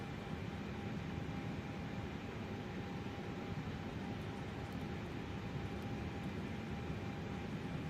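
Airliner in Microsoft Flight Simulator 2024 on PS5 rolling down the runway after landing at about 60 knots without reversers, a steady broadband roar with a faint tonal whine, constant and close throughout.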